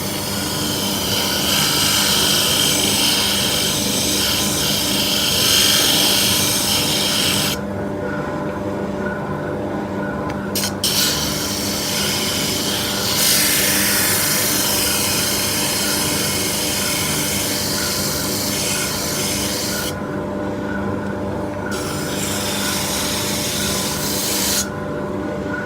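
A JET JOSS-S oscillating spindle sander works wood, a steady broadband sanding rasp over a running machine hum, with the high hiss dropping out briefly at a few points as contact with the workpiece eases.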